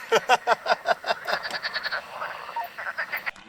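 Frogs croak in quick, rhythmic pulses, several voices overlapping in a dense nearby chorus with no talking.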